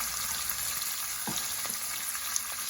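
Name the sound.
salty fish and okra frying in a pan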